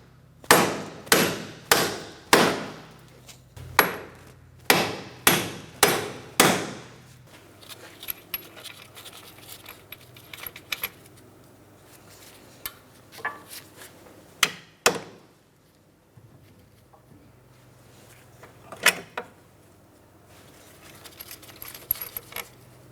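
Metal hammer blows knocking the CV axle mounting bolts outward on a 2004-2008 Pontiac Grand Prix 3.8L V6 front right suspension: a quick run of about ten sharp, loud strikes, then scattered lighter taps and clinks with pauses.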